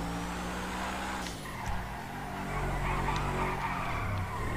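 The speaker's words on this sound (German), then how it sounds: "Guckt euch mal an, wie die am Rumrutschen ist." A modded car slides and skids around in GTA 5, with tires squealing over a steady engine drone, the screech swelling and fading across a few seconds.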